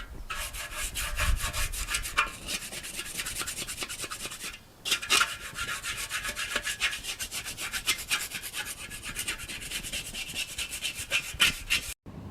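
A putty knife scrapes around the inside of a Weber charcoal grill lid and over its thermometer, giving repeated raspy metal strokes close up with a brief pause midway and no talking.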